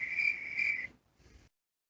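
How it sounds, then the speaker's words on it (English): Crickets chirp in the video game Destiny: two clear, shrill pulsing bursts, then a fainter third after a short gap. No voices are heard. "See, the crickets are even cheering for Donald Trump."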